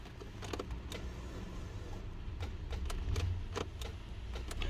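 An old engine in a project '75 truck cranks over with a rapid mechanical ticking rhythm but never catches, the starter churning steadily and fairly faint for several seconds with no voices.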